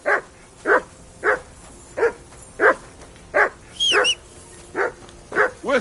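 A dog barks in a steady, evenly spaced series of about ten sharp, loud, close barks, with a brief high whistle-like squeal partway through.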